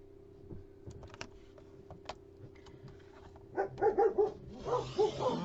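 Puppies let out a quick run of small yips and barks near the end, following soft tapping and clicking sounds in a quiet room.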